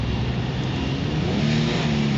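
A Kia car engine with a slight hesitation on throttle is revved, giving a steady, loud, broadband engine roar with a rising low hum. It is heard close up and alone, with no voices.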